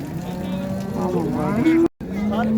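A cow moos loudly and close at a livestock cattle market, one long drawn-out low call followed by a second moo after a brief gap, with background market noise.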